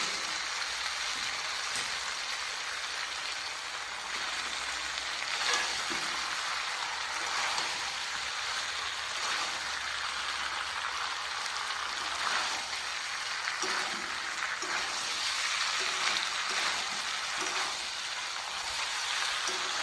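Duck curry with potatoes fries steadily in a pan, giving a constant hissing sizzle across the whole stretch with faint scraping and stirring bumps now and then, and no talking.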